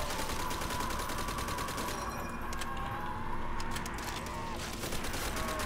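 Rapid M1 rifle shots fired in a Call of Duty: World at War custom zombies match, dense overlapping gunfire and game noise running continuously at steady loudness, with talk mixed in.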